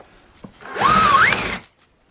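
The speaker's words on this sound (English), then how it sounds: "Get a big old drill bit. Drill out these two." Power drill boring out the plastic on a BMW door handle, one short whining burst of under a second that rises slightly in pitch, close and loud, then silence.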